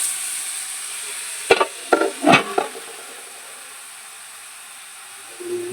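Onions cooking in a covered pan: a few short scraping stirs and sizzles in the middle of a steady faint hiss, with a quieter low clatter at the end.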